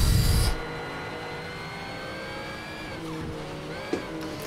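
Honda NSX race car in Need for Speed Shift 2: Unleashed, a brief loud burst then a steady, moderate engine whine with rising and falling tones as it drives along, no voices.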